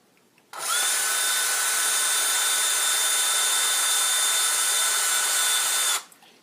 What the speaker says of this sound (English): I'm going to drill one down at the bottom